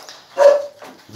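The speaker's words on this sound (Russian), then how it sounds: "Как начинаю снимать, так начинает гавкать." A dog gives one sharp, fairly close bark with a short tonal whine in it, then falls quiet, and a faint second sound follows near the end.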